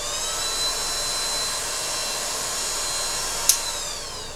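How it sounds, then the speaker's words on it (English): A small cooling fan in a Litecoin miner power unit whines steadily at close range with a high, thin, vacuum-like tone, continuous and even, with one brief click near the end. "That's just the fan running."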